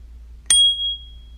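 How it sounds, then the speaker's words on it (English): A bell accessory fitted to a Ninebot Elite scooter gives one bright metallic ding that rings on briefly and decays, heard alone and close against a quiet background. "And that's how you install your bell accessory."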